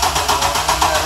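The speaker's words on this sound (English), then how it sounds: "Crank her up!" A cold Chevrolet S10 engine cranks over with a rough, rhythmic churning pulse, loud and close, throughout the short burst.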